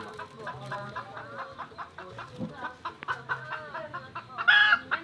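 Chickens clucking in a Thai rural yard, with short, irregular clucks throughout and a rooster's crow breaking in loudly near the end, close by under faint background voices.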